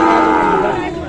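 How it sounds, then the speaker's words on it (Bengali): A cross-breed bull at the Khochabari cattle market in Thakurgaon lets out a loud, close, drawn-out moo with harmonics, against the faint murmur of the market crowd. "খামার উপযুক্ত ক্রস জাতের সার গরুগুলো প্রায় বিক্রি করা হচ্ছে"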